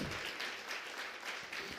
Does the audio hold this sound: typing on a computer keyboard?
no